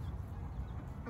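Fourteen young chicks packed into a cage outdoors on a farm, giving soft continuous clucking and peeping calls, close and steady, with no talk.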